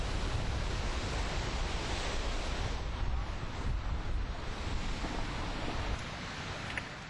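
Winter surf on Lake Michigan at Hammond, Indiana, after strong northwest winds, a steady broad roar of breaking waves mixed with heavy wind buffeting the microphone, continuous and loud throughout with no voices.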